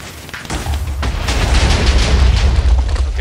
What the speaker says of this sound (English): that's with super crazy TNT explosions